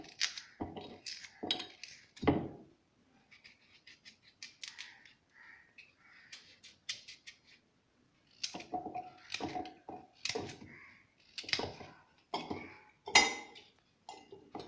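Carrots are cut by hand for a hair pack, a series of sharp, close chopping and slicing knocks in irregular bursts separated by short quiet gaps.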